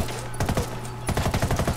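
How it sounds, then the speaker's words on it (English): Rapid assault rifle fire in the video game Ghost Recon Wildlands, two quick bursts of sharp, evenly spaced shots that ring out loud and close over a steady background hum. "Let's test out this assault rifle actually."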